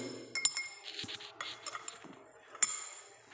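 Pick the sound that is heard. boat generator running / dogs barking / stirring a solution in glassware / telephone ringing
stirring a solution in glassware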